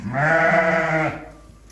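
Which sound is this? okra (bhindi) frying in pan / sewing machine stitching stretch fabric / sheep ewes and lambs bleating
sheep ewes and lambs bleating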